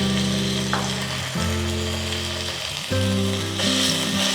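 Homemade ginger-garlic paste hitting hot coconut oil for a beef curry, a loud continuous sizzle close by with stirring scrapes and shifting hiss.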